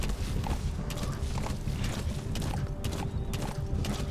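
A horse clip-clops steadily in Metal Gear Solid V, its hoofbeats even and fairly close over a continuous rumbling background, with no voices.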